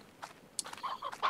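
Hens in the Slime Rancher video game giving a few short, soft clucks and squawks, scattered and faint over quiet background, close by.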